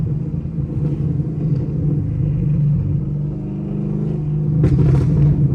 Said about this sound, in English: Oh my gosh, this car sounds crazy